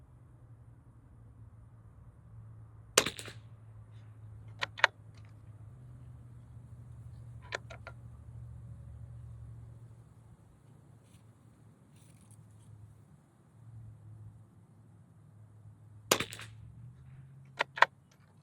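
Walther .22 LR pistol shots at a range, several sharp cracks spaced irregularly, with a pair close together near the start and another pair near the end, over a low steady hum.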